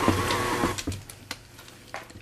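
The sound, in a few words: stand mixer running with paddle, mixing pizza dough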